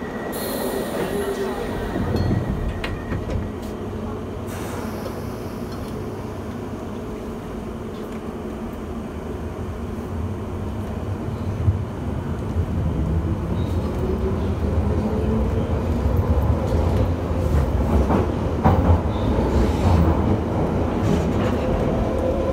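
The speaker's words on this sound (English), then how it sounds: "Is a Piccadilly Line service to Heathrow terminals 1," A London Underground Piccadilly line train toward Heathrow runs loudly from inside the carriage, a sustained rumbling roar with rattling, wheel squeal and clicking over the rails, and an announcement heard over it.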